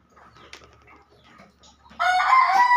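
After quiet low clucking and rustling, a rooster bursts into a loud, close crow at the end, during flooding.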